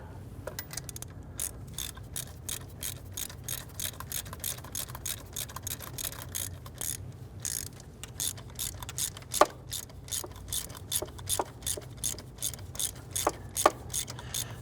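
A hand ratchet tightens a nut on the wiring harness bracket of a 1999-2004 Jeep Grand Cherokee 4.7L V8 with a rapid run of sharp clicking strokes. The bursts come in quick repeated swings, close and clear, with no speech.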